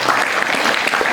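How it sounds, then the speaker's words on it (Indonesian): An indoor audience at an evening parenting training session claps steadily and densely for Pak Eka, a brief burst of loud applause filling the room. "Berikan aplaus pada Pak Ekan"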